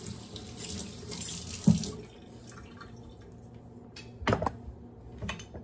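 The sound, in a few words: water from a tap washing a banana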